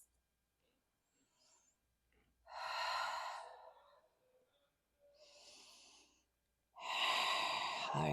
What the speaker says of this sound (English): Nice big breaths.